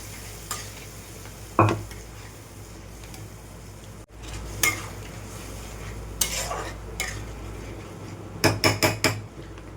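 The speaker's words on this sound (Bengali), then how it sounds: "এবার এটা ভালো করে কষিয়ে নেব।" Paneer curry is stirred and fried in a pan: a low continuous sizzle broken by sharp clanks and scrapes of a utensil against the metal, including a quick cluster of knocks near the end.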